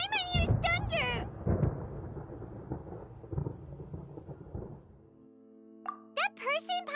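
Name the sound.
thunder in video game Genshin Impact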